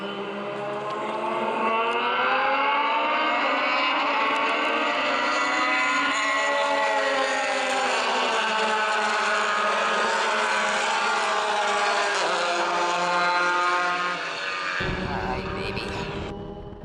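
Loud, continuous roar of formula race cars at a race restart at Buttonwillow, pitch climbing and shifting as they accelerate hard, close by, then cutting to a lower rumble near the end.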